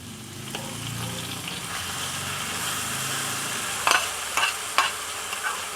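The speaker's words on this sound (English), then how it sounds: "Saute the garlic till slightly brown. Okay, add in the dry shrimp." Garlic and dried shrimp sauté in a pan, giving a steady, fairly loud hiss of frying, with a few short scraping stirs near the end.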